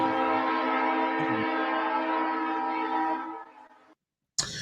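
A sustained, loud train horn sound effect blares for several seconds as the opener of a podcast's trailer segment, fading out before a short silence and a sudden sharp sound.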